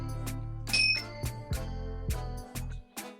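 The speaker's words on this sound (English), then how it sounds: "I'm going to start out with my chime" A meditation chime is struck several times as an opening, bright metallic rings with a hum underneath, each strike ringing briefly before the next in an uneven rhythm.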